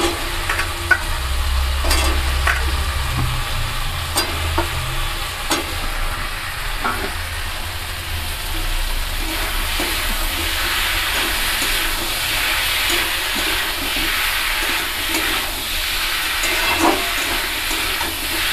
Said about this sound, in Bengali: আমি এবার গ্যাসটাকে লো ফ্লেমে করে দেব এবং মশলার সাথে আলুটাকে আস্তে আস্তে কষিয়ে নেব